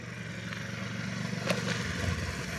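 Motorcycle riding a 7-meter slalom at a driving test, its engine droning steadily at moderate distance with slight rises in revs, no talk.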